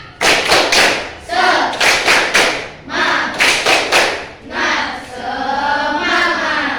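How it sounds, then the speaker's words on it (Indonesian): A classroom of students performs a rhythmic spirit clapping chant, sharp bursts of claps in repeated groups with brief pauses between them, then a final stretch of voices chanting together. "kita adakan tepuk dulu biar semangat"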